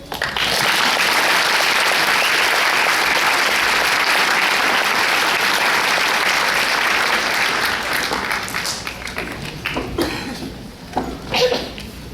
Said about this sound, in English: We have one more round of applause for our two amazing